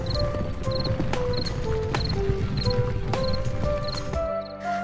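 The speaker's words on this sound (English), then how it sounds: "the robbers got on their horses and left the house forever" Horses of robbers galloping away in a children's fairy tale: steady clip-clop of hooves running under bright music with repeated chimes, fading at the end.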